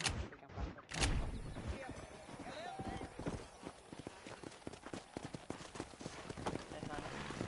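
Horse hooves clip-clop steadily through a town in the Red Dead Redemption video game, a brisk rhythmic patter of hoofbeats running throughout with a few louder impacts near the start, while someone talks over it.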